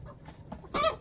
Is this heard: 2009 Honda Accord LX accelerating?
no